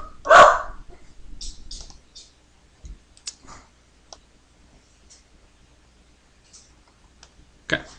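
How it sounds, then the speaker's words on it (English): A pet dog barks in bursts at home, one loud close bark followed by scattered fainter yelps and clicks with quiet gaps, then another sharp bark at the end. "my dog is going crazy."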